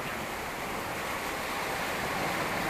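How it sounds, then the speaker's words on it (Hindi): Heavy rain pours down in Ambikapur, Chhattisgarh, a dense, unbroken hiss that stays loud and steady throughout with no voices over it. "अभी होने लगी है तगड़ी वाली बारिश"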